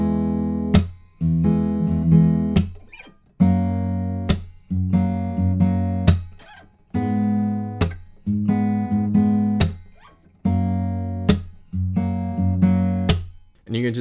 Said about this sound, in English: we basically played that exact same finger picking pattern for every single chord shape